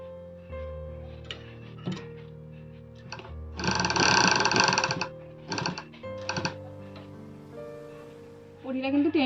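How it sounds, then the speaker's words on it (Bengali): A sewing machine runs in short rapid bursts while stitching a nighty collar, each run a fast mechanical clatter against a low steady hum, with a voice speaking briefly at the end. "এবার দেখুন সেলাই করবো"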